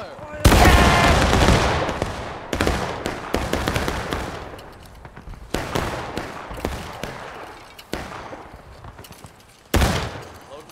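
Musket volleys crack out from infantry lines in the Civil War game War of Rights, a loud opening fusillade followed by several ragged, echoing volleys and scattered shots, some near and some farther off, with voices shouting between them.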